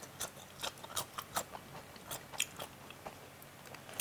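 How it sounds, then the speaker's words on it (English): Crispy, hot McDonald's fries being bitten and chewed close up, a quick series of soft crunches and crackles over a faint background hiss, with no talking. "Let me try a small fry. First off, are they crispy?"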